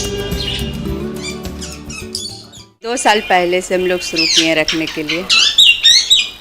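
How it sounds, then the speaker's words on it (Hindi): Various birds chirp and squawk in a home aviary, with bright bursts of chirps between and under someone talking close by. "उनका ये घरौंदा आज इन पक्षियों की चहचहाहट से गुलजार हो गया है"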